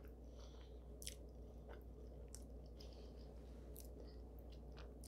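Quiet chewing of a keto pecan pie bar with a soft brown butter shortbread crust, small bites and crunches scattered over a steady low background hum, with no talking.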